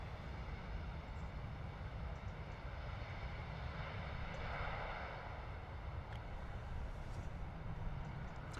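An Airbus A320neo touches down at Stansted in a crosswind, its steady engine roar and broadband rumble holding fairly constant and moderately loud throughout, with no voices.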